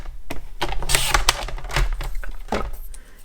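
Paper for a scrapbooking card is cut into a strip, heard as a run of crisp snips and clicks at an uneven rhythm, close and fairly quiet.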